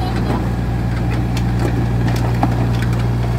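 A mini excavator's engine runs at full throttle with a steady, loud, low drone throughout, while people talk faintly in the background.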